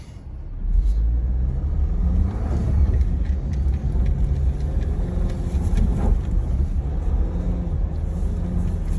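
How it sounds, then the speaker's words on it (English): A Jeep Wrangler JL drives with traction control switched off, its engine giving a steady, loud rumble that rises slightly as it pulls along, with no voices. "I'm giving it way less gas than I was giving it with the traction control on"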